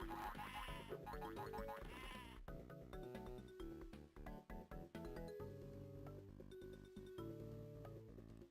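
A sheep bleats repeatedly in the Spyro video game, its wavering cries standing out over continuous game music for several seconds with no talk.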